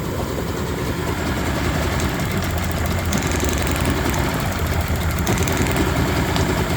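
A Yamaha 30hp two-stroke outboard engine runs rough, with a loud, continuous uneven drone and sputtering roughness throughout, close by and with no talk.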